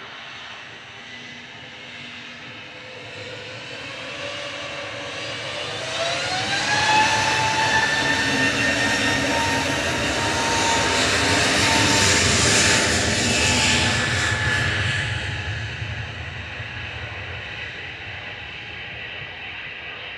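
An EasyJet airliner departs Manchester Airport for Geneva, its jet engines building into a loud, sustained roar that peaks mid-way and then eases off slightly as the aircraft climbs away, with no talk over it.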